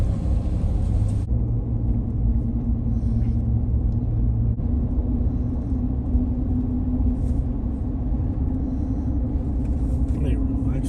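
Car driving through a residential neighborhood in Fernandina Beach, Florida, a steady low engine and road rumble heard from inside the cabin, continuous throughout, with talk layered over it.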